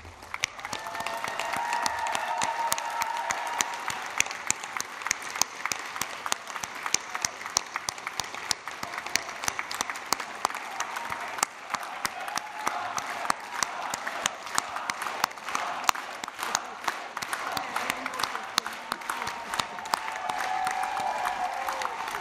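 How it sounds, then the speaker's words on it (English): A crowd of graduates and guests at the 2022 School of Engineering and Digital Sciences graduation at NU claps steadily, the applause dense and continuous for over twenty seconds, moderately distant and without any talking. "I want you all to stand up and give a round of applause to your parents"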